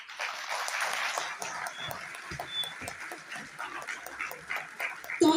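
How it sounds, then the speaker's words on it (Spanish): An audience applauds at a public speaking event with a theatre director, steady dense clapping at moderate level for about five seconds, with a sharper burst near the end. "¿Aplausos?"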